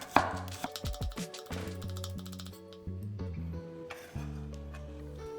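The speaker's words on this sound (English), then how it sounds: "Cut up the white parts of the spring onions." A knife chops the white parts of spring onions on a board in a quick run of crisp, irregular taps, close and fairly quiet with brief pauses.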